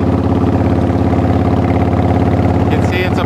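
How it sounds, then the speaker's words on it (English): A motorcycle engine drones steadily and loudly while climbing the winding Scenic Drive mountain road in El Paso, with a voice briefly audible near the end. "we're on the motorcycle on Scenic Drive"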